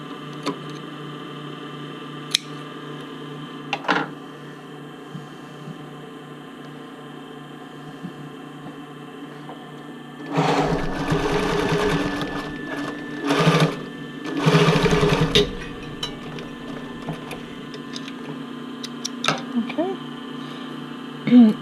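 A sewing machine runs straight stitches along the rolled elastic edge of a sports bra, two loud sustained bursts of motor hum after a quiet stretch, with brief handling clicks around them.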